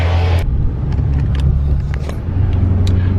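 A car on new wider wheels drives along, its loud, close, steady low engine rumble and road noise filling the space with no talking.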